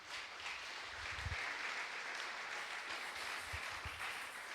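A church congregation applauds during a Sunday worship service, a soft, steady wash of clapping from across the room with a few louder nearby claps standing out.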